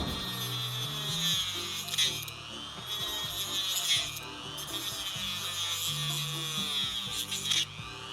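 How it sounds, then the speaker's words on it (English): A Dremel rotary tool with a cutting wheel chops through plastic on a Hasbro wand prop, its high whine rising and falling in repeated passes, close and steady with brief grinding bursts. "So we're back to the Dremel and cutting wheel again."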